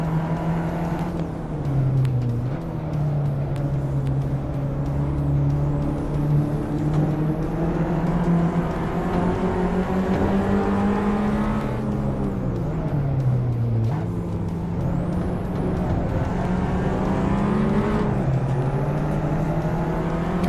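A race car engine in the Assetto Corsa sim racing game drones steadily throughout, its pitch rising and falling through gear changes and dipping twice under braking, with faint squeals now and then.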